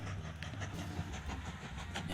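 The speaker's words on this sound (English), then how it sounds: "No, damn it, passenger train." Passenger train running in the video game Mashinky, a steady rumbling with faint rhythmic clatter held at an even level throughout, no voices.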